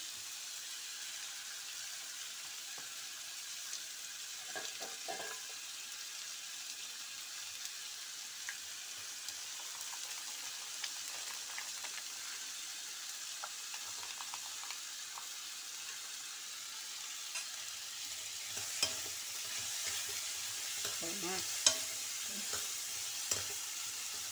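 Small onions for vatha kuzhambu sizzle steadily in hot oil in a pan, with intermittent clinks and scrapes of stirring on top of the close, continuous frying hiss and no voices.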